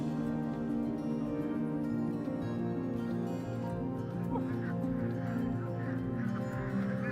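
Ducks and geese on an Indonesian duck farm honk and quack loudly in a dense, continuous chorus while being coaxed to climb up, with some faint voices mixed in.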